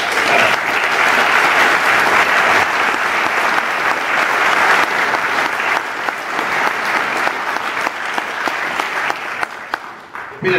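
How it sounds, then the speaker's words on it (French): Audience applause at a political speech in Rochefort, a dense, loud, sustained clapping that holds for about ten seconds and thins slightly toward the end. "Et pour ça, je crois qu'on peut applaudir aussi bien Thierry que..."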